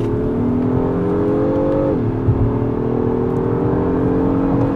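A 2025 Acura MDX Type S with a 10-speed transmission accelerates hard in second gear, its engine a loud, steady drone that dips briefly in pitch midway and then rises again, heard from inside without talk.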